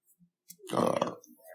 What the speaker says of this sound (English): Would you stop burping?